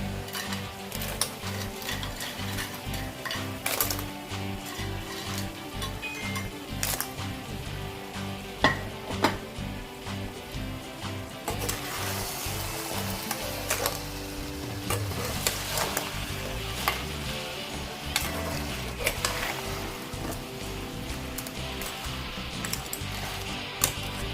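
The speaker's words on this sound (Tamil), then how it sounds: "ஓரளவு வெந்த உடனே இந்த நண்டை போட்டு நல்லா கிளறி விடணும்" Crab is stirred and fried in a pan for Chettinad crab gravy, with continuous sizzling under repeated scraping and clattering stirs from a spoon against the pan, close and busy throughout.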